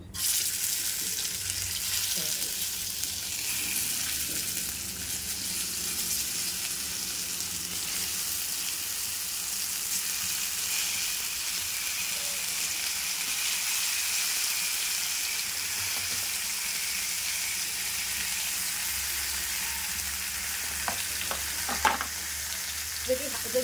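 Stuffed pointed gourds (potol) frying in mustard oil in a hot karahi, a long steady sizzle with occasional faint stirring clinks near the end.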